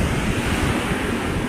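Ocean waves roll in steadily on a south coast beach, a dense continuous wash of surf with some wind buffeting the microphone, with no voices.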